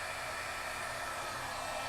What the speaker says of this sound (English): let's go ahead and get my heating tool warmed up